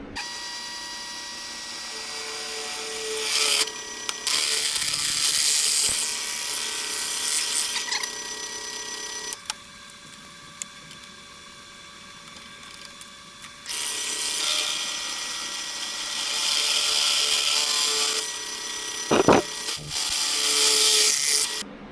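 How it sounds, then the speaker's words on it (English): A power drill whines in several long, loud bursts, separated by quieter pauses, grinding hard through steel at close range. "we're going to want to drill our holes through the end here for our lock-off tabs."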